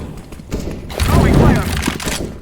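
Decoy grenade in Counter-Strike: Global Offensive on the Mirage map, mimicking gunfire: a dense burst of rapid cracking shots swells for about a second over busy game ambience, then fades back.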